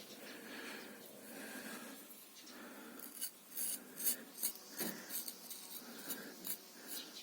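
A Yakut knife shaves hair off bull-tail hide, making soft rasping scrapes that turn into a run of quick, crisp strokes, close and faint.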